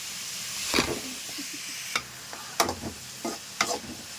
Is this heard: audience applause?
no